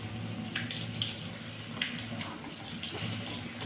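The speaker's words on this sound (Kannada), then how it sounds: "ಈಗ ಚೆನ್ನಾಗಿ ಕುದೀತಾ ಇದೆ" Water in a pot on the stove at a steady boil while vegetable palya cooks, a continuous close bubbling wash with small pops and no talk.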